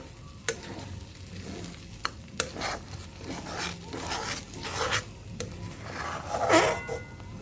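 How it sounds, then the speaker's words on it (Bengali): A curry with mustard paste, chilli and nigella seeds being stirred in a pan, the spoon scraping and rubbing in slow strokes over a soft sizzle, with a few sharp taps against the pan's rim. "এটার মধ্যে সর্ষে বাটা দিয়েছি, লঙ্কা দিয়েছি, আর কালো জিরে দিয়েছি।"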